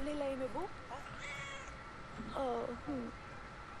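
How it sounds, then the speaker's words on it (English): A cat in the video game Brothers: A Tale of Two Sons gives several close, clear meows in two quick clusters, with a person talking during the clip. "It's a kitty cat!"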